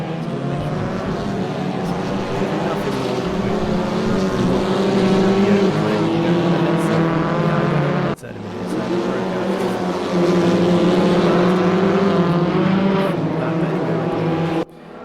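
Touring race cars circulate with an Opel among them, engines droning loud and steady in a sustained roar that briefly dips and swells again as they pass.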